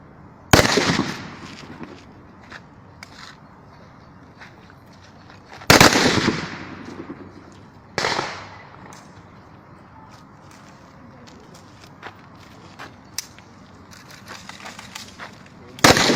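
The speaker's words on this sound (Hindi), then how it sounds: "रचाकुंडा पुलिस कमिश्नरिएट का सालाना फायरिंग प्रैक्टिस प्रोग्राम का आज इनेकाद अमल में लाया गया था" Shots crack out during the Rachakonda Police Commissionerate's annual firing practice, three loud sharp reports at wide intervals with fainter pops and outdoor ambience in between.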